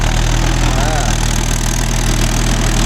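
A Mahindra Yuvo Tech Plus 585 DI 4WD tractor engine runs steadily and loudly up close, a constant low throbbing hum pulling a 5-point cultivator through a field.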